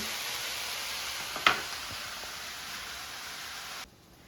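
Steady soft sizzling of red cabbage pan-frying, a continuous hiss with a faint clink partway through, cutting off near the end.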